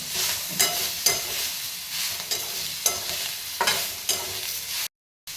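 Crushed peanuts stir-fried with chopped greens for a leafy bhaji, a continuous sizzle broken by regular scraping strokes of a spatula roughly every half second, ending in a brief cut of silence.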